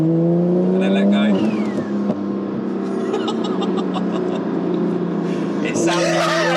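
A tuned Porsche 992 Turbo S engine of about 1500 bhp, in sport mode, revs hard and accelerates close by, roaring and rising in pitch, with voices talking over it.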